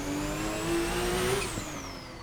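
Group C-derived racing engine of a Porsche 911 GT1-98 in a racing game on the Nordschleife, a high, steady rising whine climbing in pitch, then easing off as the car shifts, heard continuously and close.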